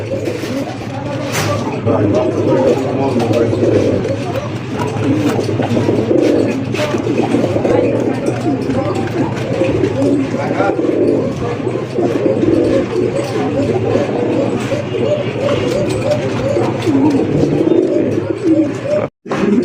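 A crowd of fancy pigeons, including blackless satin pigeons, kept for sale coos continuously and close by, their overlapping throaty calls forming a steady, loud chorus with no break.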